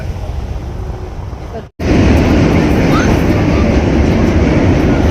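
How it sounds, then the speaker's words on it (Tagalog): A loud, steady rumbling roar fills the air as a train passes close by on a New York street, after a brief cut in the sound. "Meron kasing tren eh, no? Ingay."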